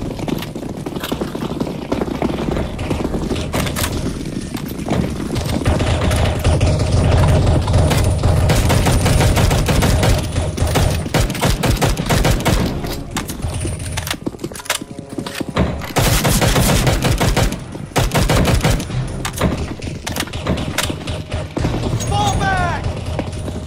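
Heavy, continuous automatic gunfire from Counter-Strike: GO Zombie Escape as players shoot NPCs. It comes as loud, dense rattling bursts with brief lulls and a few louder booms.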